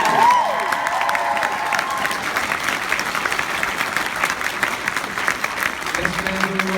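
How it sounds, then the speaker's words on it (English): Audience at a Toronto Comic Con panel with actor Brett Dalton breaking into sustained applause, a dense, even wash of clapping that holds for several seconds from a full room. "Let's give a big round of applause"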